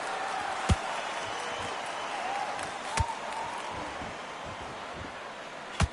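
Crowd buzz in a boxing arena in the Undisputed Boxing video game: a steady wash of murmuring spectators held at an even level, broken by three sharp, isolated thumps.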